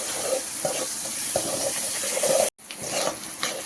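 Ginger garlic paste sizzles and fries in a pan while being stirred, a steady hiss with scraping stir strokes, fairly close and continuous apart from a brief break.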